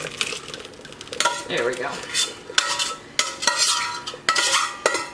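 Cooked blueberries poured and scraped through a metal strainer set over a big bowl, with irregular clinks, scrapes and wet stirring sounds close by and a brief spoken remark.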